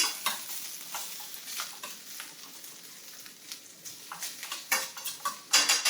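An egg fries in a pan with kale, sizzling softly and steadily with frequent sharp crackles and pops, and a utensil clinks against the pan now and then.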